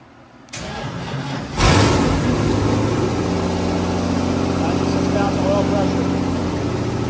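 A sand rail's engine cranks and catches after a coil-wire fix, then settles into a loud, steady idle with rumbling low tones that continue close by to the end.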